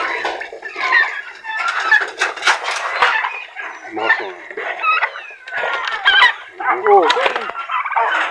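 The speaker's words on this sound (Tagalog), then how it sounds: "So ito yung mga pabo natin." Turkeys and chickens call back and forth nearby, gobbling and clucking in overlapping bursts, with a brief human exclamation.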